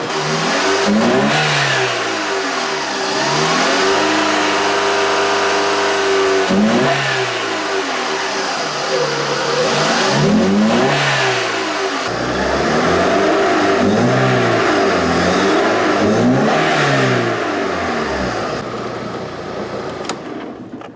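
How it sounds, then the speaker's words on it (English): The engine of an MK4 VW Beetle with a weak fuel pump revs repeatedly as the gas pedal is pressed. The loud, close engine note climbs and falls in several successive surges over a steady running drone. "now I'm going to be pressing the gas pedal a couple of times so that you can see it going up on the gauge"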